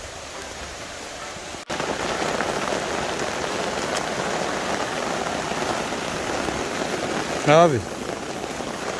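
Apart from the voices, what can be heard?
rain falling on farm in Samoa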